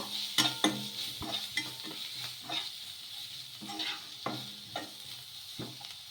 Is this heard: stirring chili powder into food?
yes